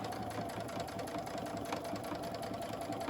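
A sewing machine runs steadily, stitching fabric pieces of a face mask together, with a continuous close whirring hum and no pauses for the whole stretch.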